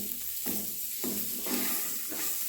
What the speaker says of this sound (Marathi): यात आपल्याला हे परतवत राहायचं आहे